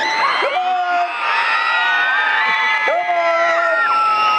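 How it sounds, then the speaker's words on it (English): Crowd of children at a night-glow hot-air balloon festival screaming, whooping and cheering together, a loud sustained roar with high shrill shrieks rising and falling, plus a couple of piercing whistle-like tones. "I want to hear every kid scream right now. Let's hear it, kids!"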